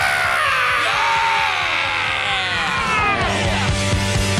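Loud yelling and screaming from a voice fills the clip, with a rumbling, busy background underneath.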